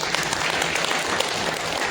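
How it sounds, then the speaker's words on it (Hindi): Applause for soldiers at a military commemoration ceremony in Haldwani, a dense steady crowd clapping heard up close, without pauses. "अभूतपूर्व सैनिकों के लिए जोरदार तालियां।"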